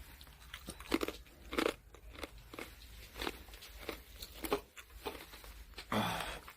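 Crunchy banana chips are bitten and chewed close to the mic. A quiet series of sharp crunches comes at irregular intervals, each with a brief crackling tail.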